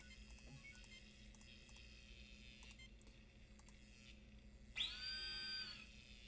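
A drill breaks open a panel in the DOS game Star Trek: 25th Anniversary, a sharp, whining electronic buzz lasting about a second, following a scatter of faint beeps and a low background hum.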